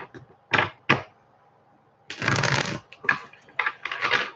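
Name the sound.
tarot cards being shuffled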